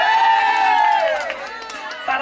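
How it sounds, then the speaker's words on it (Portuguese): Party guests at a mother's birthday celebration cheer and whoop together in a loud, sustained burst of raised voices that dips midway and then swells again. "Uma salva de palmas, galera!"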